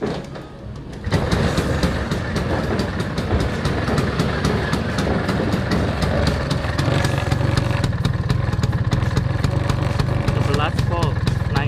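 A Vespa scooter engine starts and keeps running at a steady, loud, rattling idle in a workshop during a charging check of its voltage regulator, with a person talking briefly over it.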